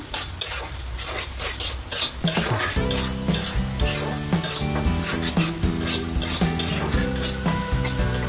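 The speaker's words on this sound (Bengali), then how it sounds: "তো আমি মশলাটা ভালো করে কষিয়ে নেব।" Spice paste with salt sautéing in a pan as a spoon stirs it rhythmically, a loud close sizzle broken by regular scraping clatters, with no voices.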